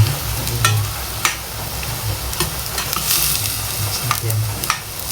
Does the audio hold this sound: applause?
no